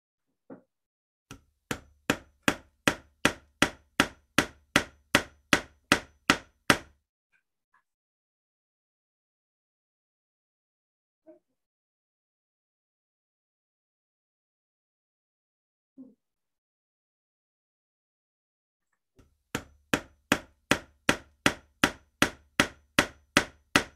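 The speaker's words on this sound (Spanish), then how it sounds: "un martillo con un clavo" A hammer strikes a nail in two bursts of steady, evenly spaced blows, about a dozen each, separated by a long quiet gap with a couple of faint knocks.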